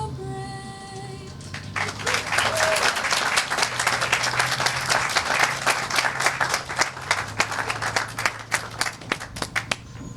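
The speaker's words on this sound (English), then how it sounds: "Let's give Letzi another big round of applause, please." Audience at a groundbreaking ceremony breaks into applause after an a cappella national anthem. Dense, sustained clapping swells in after a quiet start, holds steady, then thins into scattered distinct claps near the end.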